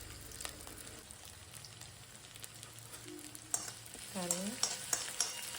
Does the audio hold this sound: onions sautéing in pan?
yes